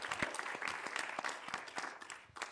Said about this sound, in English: Would you give the rabbi a round of applause?